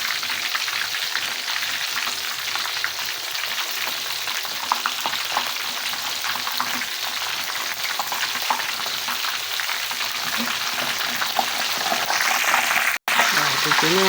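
Tofu in crispy batter fries in hot oil, a loud, steady crackling sizzle with constant spattering and a brief break near the end.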